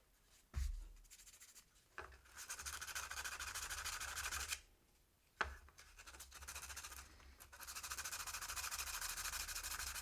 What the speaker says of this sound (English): Let's go ahead and grab some 120 grit sandpaper. And just go over the edges here.